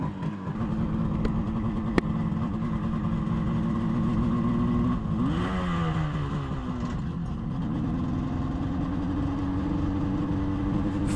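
Moto Guzzi TS 250 motorcycle engine running steadily and loud throughout, with a brief rising and falling rev in the middle before settling back to an even idle.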